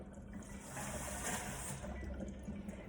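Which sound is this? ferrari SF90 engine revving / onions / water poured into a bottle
water poured into a bottle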